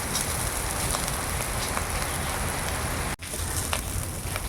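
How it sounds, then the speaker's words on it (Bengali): Banana stem frying with beans in a pan over a low flame, a steady, dense sizzle close by with one brief break. "এটা একটু ভাজতে সময় লাগবে, যেহেতু ভাজা সিম আছে ভাজতে হবে"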